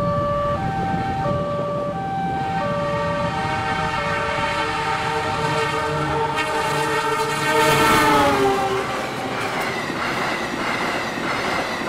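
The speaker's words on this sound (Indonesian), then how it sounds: "kereta api direct train melintas Cikampek" A direct passenger train with dual-genset power speeds through Cikampek on a test run, its sustained roar joined by a long, loud multi-tone horn that bends downward in pitch as the train passes close by.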